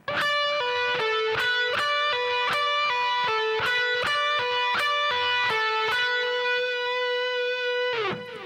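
Electric guitar slowly plays a minor pentatonic lick, clear sustained notes picked one at a time in an unhurried rhythm, close and steady with light effects, ending on a held note.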